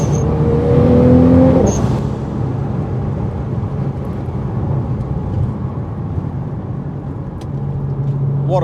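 A Stage 5 Nissan GT-R R35 tuned to 800 BHP accelerates hard, its broad engine roar rising with a tonal whine early on, then settling into a steady, dense rumble without speech.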